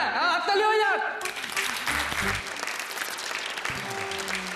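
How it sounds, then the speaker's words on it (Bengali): Studio audience applause on a Bengali TV show, a dense spread of clapping that rises after a brief opening of voice and music, with a host's speech faintly beneath it. "হ্যাঁ, হাততালি হয়ে যাক।"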